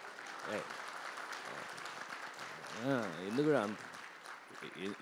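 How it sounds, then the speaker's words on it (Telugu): An audience at a film-industry event claps in a steady burst of applause, while a voice speaks over the clapping. "కొంచెం బాగానే కొట్టచ్చు చప్పట్లు"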